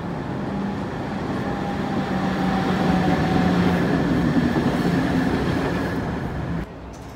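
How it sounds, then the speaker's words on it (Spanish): A tram rolls along a Prague street, a steady rail rumble with faint wheel tones that holds loud and near for several seconds before easing off at the end. "¡Cuidado con los tranvías!"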